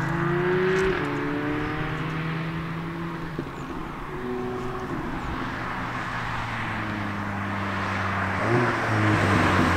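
An Audi A3/S3 or VW Golf R/GTI with upgraded brakes drives for a brake stop test, its engine whirring and shifting pitch as it slows, steady and fairly close, with no talking.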